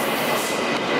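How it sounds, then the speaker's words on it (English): A train rolls into a station with a loud, close rumble and rattle of wheels on rails, a dense continuous roar throughout, no voices. "I gotta catch the train right now."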